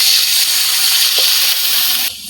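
A little water poured into frying garam masala spices in a village kitchen pan, producing a loud, close, steady hiss of steam that quiets abruptly near the end.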